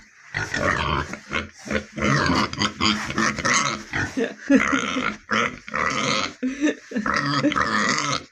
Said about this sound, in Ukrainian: От поросятка, от поросятка.